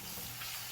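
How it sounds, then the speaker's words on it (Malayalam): Onions frying in oil on a stovetop for chicken chukka, a steady close sizzle with no voices. "നമുക്ക് ആദ്യമേ സവാള ഒന്ന് ഫ്രൈ ആക്കിയെടുക്കാം"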